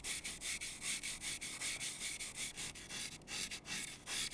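A piece of aerogel squeezed and rubbed right against the microphone gives a fast series of dry, crisp scratching strokes, close and fairly faint, in an even rhythm with no talking.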